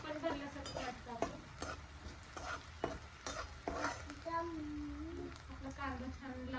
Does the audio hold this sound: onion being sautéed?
yes